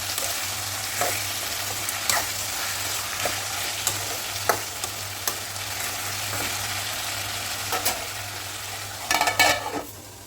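Onions and tomatoes sautéing in a pan for ponnanganni keerai chutney, a steady sizzle with occasional scraping stirs and a low hum beneath, ending in a brief cluster of louder clatters, no speech.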